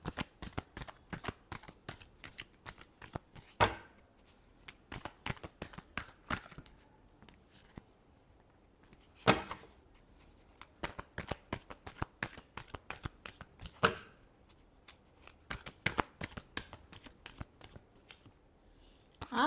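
Tarot cards being shuffled up close, a steady run of quick papery riffles and flicks with a few louder bursts, heard alone without any talking.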